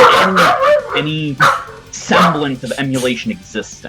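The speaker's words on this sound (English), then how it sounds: "Sorry about my dog, guys." A dog barks now and then in the background while someone talks over it, the short barks partly buried beneath the steady conversation.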